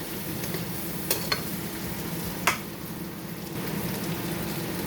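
Chicken adobo sizzles steadily in a pan while being stirred, a continuous crackling hiss up close with a few sharp scrapes and clinks of the utensil against the pan, no voices.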